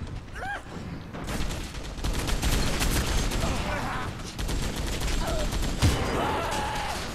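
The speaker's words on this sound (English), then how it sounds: "triple spray with a freaking shotgun" Shotgun blasts and rapid gunfire in the Gotham City Impostors shooter game pound in loud dense bursts, mixed with game effects and a voice talking over the action.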